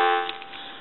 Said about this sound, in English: Give you some dial tone.